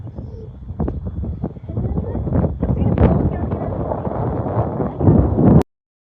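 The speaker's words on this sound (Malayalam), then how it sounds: "നല്ല കാറ്റ്, നല്ല തണുത്ത കാറ്റ്." Steady, heavy cold wind buffets the microphone with a low rumble on a trekking trail at Cheengeri hill, Wayanad, gusting stronger near the end before cutting off abruptly.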